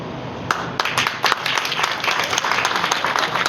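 Audience applause at a school ceremony honouring two top-scoring students, a steady wash of many hands clapping that swells after a sharp start and continues evenly throughout.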